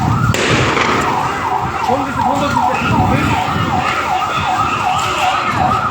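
A wailing police vehicle siren sweeps up and down in a steady repeating cycle on a street in Kushtia town, loud and close over traffic noise and scattered voices.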